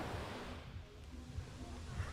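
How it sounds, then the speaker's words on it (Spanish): Gentle sea waves wash onto a Caribbean beach near Cancun, a soft, continuous hiss of surf that sounds faint and distant, with no voices. "el sonido del agua"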